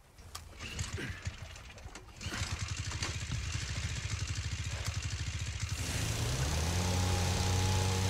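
A boat engine starts up in the Resident Evil 4 Remake video game, sputtering in rapid rhythmic chugs that settle into a steady, louder droning hum over several seconds, with no talk over it.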